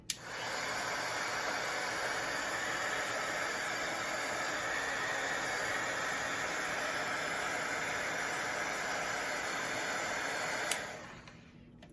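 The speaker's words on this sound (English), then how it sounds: "I'm going to go ahead and blast this a little bit to dry it" A heat tool blowing to dry paint gives a loud, steady blast of air that roars without pause for several seconds, then cuts off and fades.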